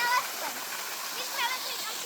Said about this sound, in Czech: nejkrásnější a nejvyšší vodopád Plzeňska